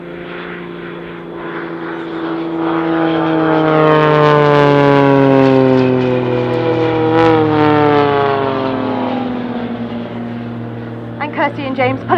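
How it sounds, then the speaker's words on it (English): Propeller aerobatic display aircraft of the Blades team at an air show, pulling up into the vertical: a loud, sustained engine drone whose pitch sweeps and shifts through the climb, swelling and then easing, with no talk over it. "Kirsty and James pulling up into the vertical"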